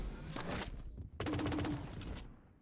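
Railgun fire in the arena shooter Quake Champions, with two bursts of crackling, buzzing weapon sound separated by a short gap, loud and close, then fading out.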